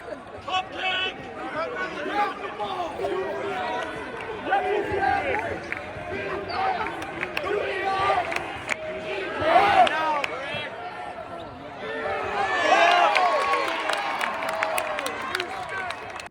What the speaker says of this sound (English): You're looking at some videos I shot of them cheering on the Saints.